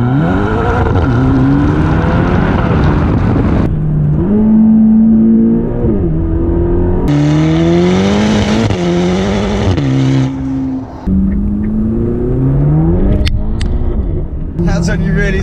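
A Ferrari GTC4 Lusso engine in sport mode revs hard and loud, climbing through gears in repeated rising sweeps with brief shifts between them, close and continuous.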